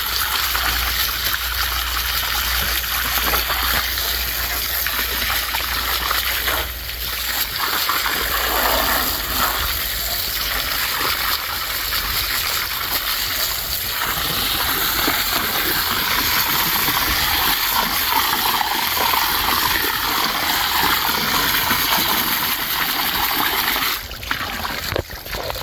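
A garden hose sprays water into a pond being drained for maintenance, giving a steady, close hiss and splash that runs without a break the whole time.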